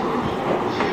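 A train runs on the Tokyu Oimachi line in Tokyo, making a steady, close rumble with a faint rhythmic clatter of the wheels and no voices.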